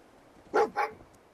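A dog in the video game Fallout 4 gives two quick, close barks back to back against a quiet game background.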